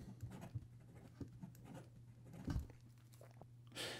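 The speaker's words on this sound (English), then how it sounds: "maybe we'll just do some fast writing down here just to compare" Quick handwriting with a fountain pen fitted with a fine stainless steel nib, a faint scratchy rustle of nib on paper with brief taps and strokes, quiet and close, no talking.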